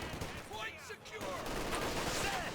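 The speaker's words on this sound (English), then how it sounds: "MG42 going to be duking it out with the other MG42" MG42 machine guns trading fire in Company of Heroes 2, a dense, continuous rattle of gunfire filling the background while a commentator talks over it.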